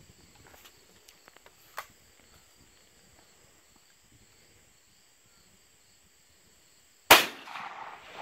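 A deer hunting rifle fires a single loud, close shot with a sharp crack and brief echoing tail, breaking a quiet stretch of outdoor ambience with faint insects and small movements.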